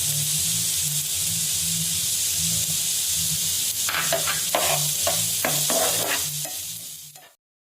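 Onions sizzle steadily in a hot pan, with a constant frying hiss and a run of scraping stirs partway through before it cuts off.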